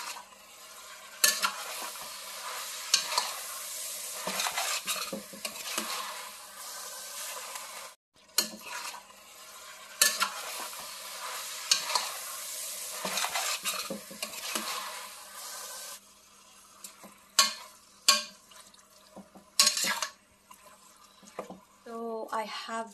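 Pork and beef simmer in a pot for dinuguan as a spoon stirs through them, giving repeated bursts of wet bubbling and sizzle broken by scraping knocks and brief pauses.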